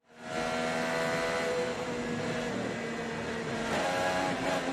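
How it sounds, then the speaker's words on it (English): A race car downshifts on a circuit as it enters turn two after the short chute, its engine a loud, continuous buzzing roar with a slight change in pitch partway through. No talking. "That was a downshift he did."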